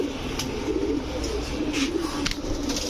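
Highflyer pigeons, a loft of domestic birds kept for sale, coo steadily and close by, low throaty murmurs layered over one another against constant background noise with no talk.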